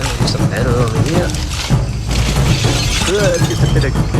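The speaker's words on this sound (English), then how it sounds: "just a bit of broken glass" Broken glass shattering and crunching during curbside scrapping of junk metal, a loud close burst of breaking and scraping over steady outdoor background noise.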